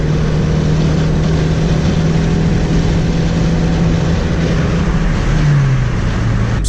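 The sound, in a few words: Honda Civic Si engine accelerating in 6th gear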